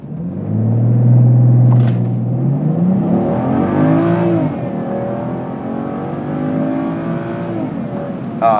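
A 2008-style E9X BMW 335i xDrive with N55 engine and RaceChip RS tune accelerates hard from a standstill, its engine note rising loud and close through the gears with a brief shift dip, continuous throughout.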